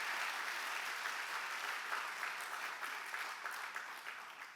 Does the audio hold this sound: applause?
yes